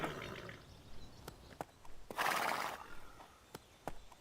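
A horse neighs loudly near the middle, a long whinny standing out over scattered sharp clicks and light knocks, with a short quieter call and more clicks afterward.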